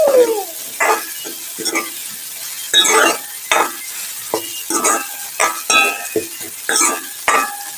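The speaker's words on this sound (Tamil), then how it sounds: "பாருங்க, இதே மாதிரி நல்லா வதங்கி சுருண்டு வரணும்" Masala sautéing in a pan for a soya meat curry in coconut milk, Kerala and Sri Lankan style, with repeated spoon stirs scraping the pan in short bursts over a soft sizzle, close and alone.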